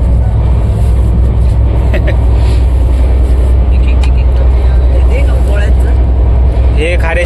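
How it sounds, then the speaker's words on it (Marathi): A train pulling out of Itarsi Junction on the way from Nashik toward Haridwar, heard from inside as a loud, steady rumble and rattle throughout, with voices murmuring underneath. "इटारसी जंक्शनला थांबली होती गाडी, आता निघाली आहे"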